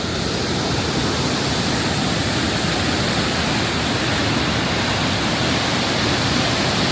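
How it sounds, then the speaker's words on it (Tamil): Water pours down into the deep gorge of Blyde River Canyon in South Africa, where two rivers meet, making a loud, continuous, unbroken roar of rushing water heard from a bridge. "தண்ணி எப்படி ஊற்றுது பாருங்க."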